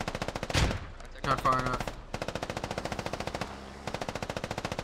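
A .50 cal machine gun fires in an online shooter game, rapid evenly spaced bursts of heavy rounds, loud and close, broken by short gaps, with players talking over the gunfire.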